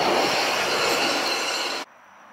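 A metro train at Kalbakken station in Oslo, Norway, a loud, close rush of wheels and carriage noise with squealing, cutting off abruptly near the end to a low hum.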